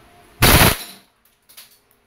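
WE airsoft Glock 35 pistol firing on full automatic: one loud, close, rapid burst lasting a fraction of a second, followed by a couple of faint mechanical clicks.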